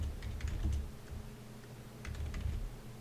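Code being typed on a computer keyboard in two short bursts of close key taps separated by a brief pause, over a low steady room hum with no talking.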